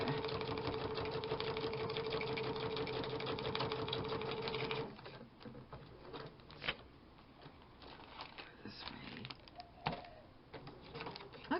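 Sewing machine running slowly, a steady close mechanical hum with rhythmic stitching for several seconds, then stopping into quieter handling noises and occasional knocks.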